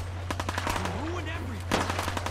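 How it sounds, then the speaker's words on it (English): Gunfire in the Fallout video game, rapid bursts of shots cracking over a constant low hum, with a brief burst of louder shots near the end. "are they shooting at me?"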